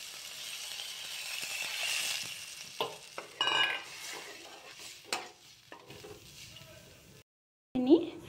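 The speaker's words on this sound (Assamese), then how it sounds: "সেই বইল কৰি লোৱা পানীখিনিয়ে দিম" Fish curry frying in a pan sizzles loudly as boiled water is poured in, with stirring scrapes and occasional utensil clinks, then a brief silence and a final clatter.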